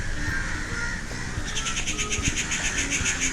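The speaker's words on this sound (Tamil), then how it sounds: "மேலே வேறு டூ மச் ஆஃப் காக்காஸ், எதுக்குன்னே தெரில, கத்தினே இருக்குதுங்க" Crows caw overhead at Vadakkunnathan Temple in Thrissur during Pooram, a rapid run of harsh repeated calls rising over a dense crowd murmur and ambient hubbub, fairly loud and steady.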